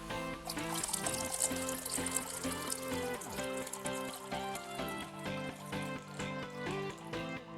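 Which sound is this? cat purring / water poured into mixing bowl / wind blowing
water poured into mixing bowl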